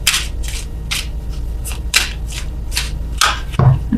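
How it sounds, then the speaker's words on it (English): A deck of tarot cards is shuffled slowly by hand, giving a series of soft papery riffle bursts about every half second, close and fairly loud over a low steady room hum. "as I warned, I'm shuffling extra slow."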